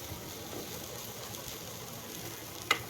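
Lilva tuver kachori filling roasting in a pan gives a soft, steady sizzle, faint and even throughout, with one small tap near the end and no one talking.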